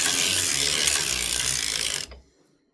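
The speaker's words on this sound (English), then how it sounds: "And then I'm just going to crank around." A circular sock knitting machine being cranked around, giving a loud, steady, close mechanical whirring and rasping rattle that runs for about two seconds and then stops abruptly into quiet.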